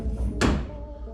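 A suicide door on a budget 1951 Ford rat rod shuts with one sharp metallic thunk amid a low background hum, close and clear.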